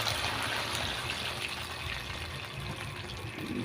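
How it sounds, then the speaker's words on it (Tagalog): A little water poured into a cooking pan of tomatoes and sardines, a soft continuous trickle and splash against low kitchen background noise, with no talking. "So salina natin guys ng kunting tubig."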